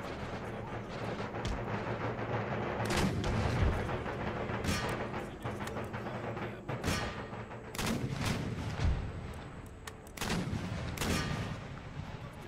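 Cannon artillery salvos in Empire Total War, a land battle with guns deployed on the flank: repeated loud booming blasts at irregular intervals over a constant low din of distant gunfire and battle noise.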